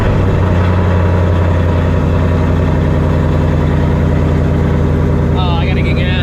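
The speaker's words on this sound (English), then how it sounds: "let's get this cold start." A Ford Mustang GT S650 V8 on a cold start, a loud, steady, deep engine rumble filling the whole clip close to the microphone, with a brief higher whine near the end.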